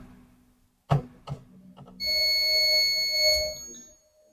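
A multimeter in buzzer continuity mode gives a sustained electronic beep while probing a dead Mi 11T 5G phone circuit board, preceded by a couple of sharp clicks from the probes, close and clear with no talking.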